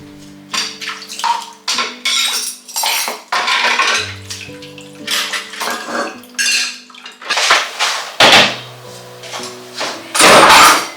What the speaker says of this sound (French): là je vide mon lave-vaisselle et ensuite je vais ranger la vaisselle sale